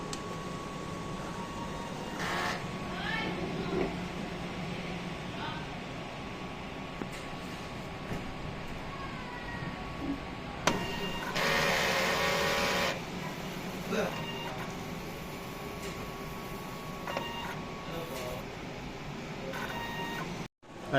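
Roland eco-solvent wide-format printer running a print head cleaning cycle, a steady mechanical hum with a louder burst of whirring pump and carriage noise midway, plus small clicks and beeps, close by; some talk in the room underneath.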